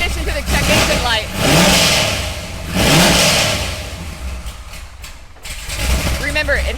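A Corvette Z06 engine with a big cam and a check engine light revs hard in several loud surges, dropping back to a rough, lumpy idle between them, with someone talking over it.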